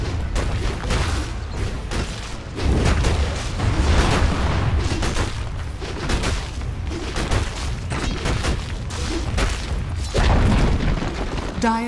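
A tower being destroyed in the Dota 2 video game: heavy booming impacts and crashes with a dense battle din throughout, loud and near, with a voice speaking over it.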